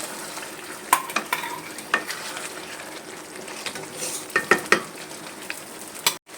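Mutton with fried potatoes cooks down in a pan as a spoon stirs and scrapes, sharp metallic clicks and knocks recurring over a steady close sizzle.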